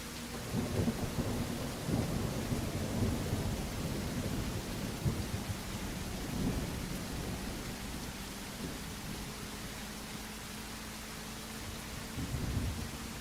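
Rain and rolling thunder in the video game Caravanners: a steady wash of rainfall with repeated low, booming thunder rumbles swelling and fading throughout, heard alone without talk.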